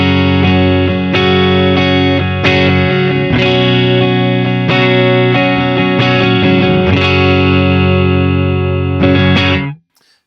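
Electric guitar through a clean preset from the BT MT15 pack on a Tonex amp modeler: loud, sustained, ringing chords struck repeatedly in a steady rhythm, each strum blooming and overlapping, ending with an abrupt cutoff.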